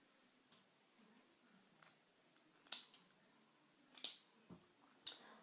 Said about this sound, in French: moi je découpe 3 feuilles